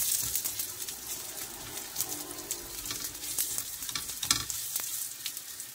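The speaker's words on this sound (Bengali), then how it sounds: "শুকনো মরিচ 2টা দিয়ে দিচ্ছি, দিয়ে এটা ফোড়ন দিয়ে দেব। পুরো সরিষার তেলের মধ্যে আমি ফোড়নটা দেব।" Dried red chilies crackle and sizzle as they temper in hot mustard oil, a steady close frying hiss with sharp pops and occasional stirring scrapes throughout.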